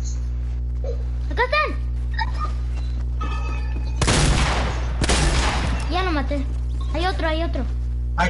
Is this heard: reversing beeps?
no